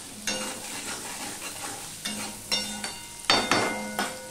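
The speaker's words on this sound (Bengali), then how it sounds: "দিয়ে দিলাম নুন, দিয়ে দিলাম অল্প একটুখানি হলুদ, দিয়ে সম্পূর্ণটা মিশিয়ে নিলাম" Fish pieces with salt and turmeric being stirred in a pan, a series of distinct scraping strokes about every half second to second, near and clear with a light sizzle between.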